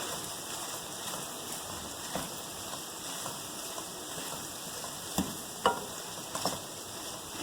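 Okra frying in a pan while being stirred and mixed, a steady close sizzle broken by occasional scraping stirs and clicks, with no speech.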